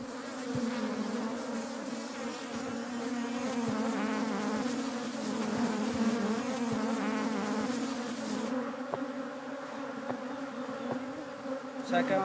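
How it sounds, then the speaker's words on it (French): Many bees of Mallorca's Serra de Tramuntana buzz steadily and close by, a continuous droning hum with no one talking. "Les abeilles de la Serra de Tramuntana sont résistantes, mais aussi très agressives."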